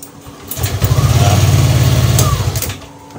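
A Yamaha Lexi scooter, its battery freshly recharged, cranks with a quick rapid starter whirr and catches into a steady, close engine rumble for a couple of seconds before fading.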